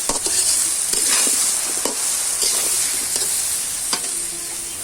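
Mango pieces frying in oil for a mango pickle, a bright constant sizzle punctuated by repeated scraping and knocking strokes of a spatula, close and fairly loud with no talking.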